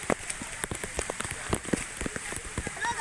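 Rain pours down outdoors where children splash and play in the water, a steady wash of falling drops with scattered splashes and sharp spatters throughout, while voices chatter nearby.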